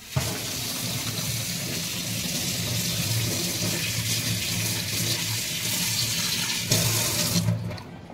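Running water from a kitchen tap pours steadily over a hilsa fish head being washed in a sink, a continuous close splashing hiss with a brief louder surge near the end.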